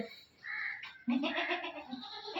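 A farm goat lets out a close, loud bleat followed by a longer wavering cry, with no talking heard.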